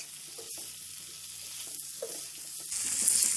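Liver frying on a tawa with chopped coriander and green chillies makes a quiet, steady sizzle, broken by a few faint soft stirring knocks.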